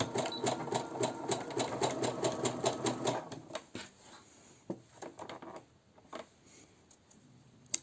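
A sewing machine stitches elastic onto a bra in quick rhythmic bursts of needle clatter, close and fairly quiet, then stops and gives way to scattered handling clicks and soft rustles.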